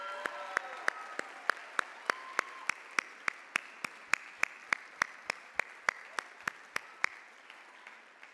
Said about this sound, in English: let's give a round of applause to your 2020 King and Queen, Jesse Grimm and Chloe McCashin.